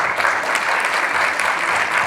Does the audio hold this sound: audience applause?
yes